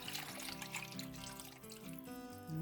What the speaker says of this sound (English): I'm just gonna pour it into the crock pot. You want the water to go right above the bones.